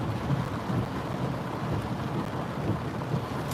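Heavy rain with thunder around a car driving through Philadelphia, a steady loud wash of rainfall with low rumbling underneath, continuous throughout with no voices.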